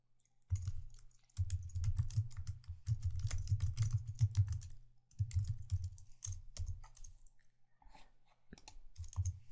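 Fingers type on a computer keyboard in bursts of rapid, close clicking, with short pauses between runs and a few isolated keystrokes near the end; no voice.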